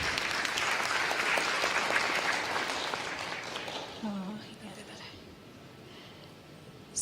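Audience applause at an Arangetram dance performance, a dense, close wash of clapping that holds steady for several seconds and then thins and fades, with a voice briefly audible as it dies away.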